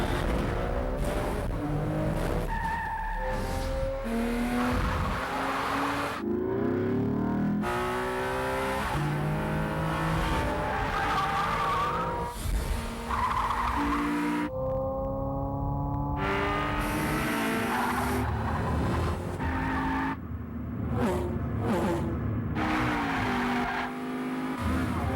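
Race car engines roar and rev in a racing video game shown at the E3 2005 expo, with tires squealing and skidding through repeated acceleration bursts, loud and continuous, with brief gaps.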